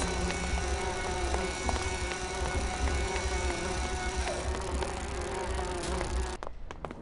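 Swarm of bees buzzing in the video game Grim Fandango, a loud, dense continuous drone filling the scene before cutting off abruptly near the end.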